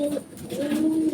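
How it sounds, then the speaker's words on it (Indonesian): A pigeon being held and stroked gives a soft, low rolling coo, close up, with a short pause before a second longer coo. "Yang paling cepat sebenarnya dielus-elus di kuping merpati itu, Mas Sampun Jaya."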